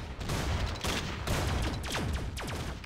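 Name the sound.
gunfire from Roblox video game Zombie Rush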